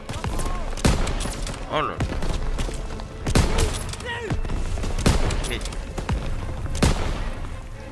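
Gunfire in the video game Call of Duty WW2, with repeated loud shots and bursts over dense battle noise, while a player talks over the action.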